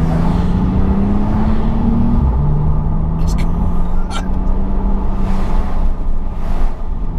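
Engine burble from a 720 bhp Techart Porsche 911 Turbo S, a steady loud low rumble with slight pitch shifts as it drives, alone in the clip.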